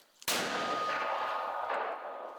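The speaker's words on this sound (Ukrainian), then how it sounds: "Мінометом 120-го калібру працюють по ворожих засідках" A single loud boom of a 120mm mortar firing, sudden sharp blast followed by a long rumbling decay, close by.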